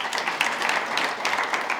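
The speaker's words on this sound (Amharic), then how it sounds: "እባካቸው አጨብጭቡላቸው።" Audience applause at a student quiz competition, steady clapping from a crowd for the contestants, moderately loud and continuous throughout.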